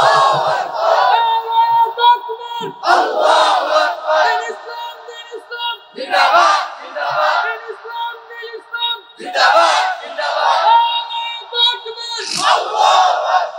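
A large crowd at a Bengali religious sermon (waz) shouting the takbir chant: four loud, repeated waves of massed voices roaring in unison, each lasting a couple of seconds, separated by brief pauses.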